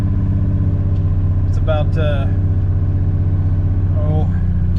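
A car's engine runs steadily after struggling through a cold start in chilly weather, a continuous low idle rumble filling the whole stretch while a person talks briefly over it.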